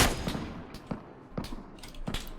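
Gunfire in PUBG Mobile, a series of sharp separate shots spaced irregularly at mid distance over a steady background din.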